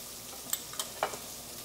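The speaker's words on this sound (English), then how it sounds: "you wanna hear that sizzle right away" Food sizzles faintly in hot oil in a pan in a kitchen at EPCOT, a soft steady hiss broken by a few brief crackles and pops.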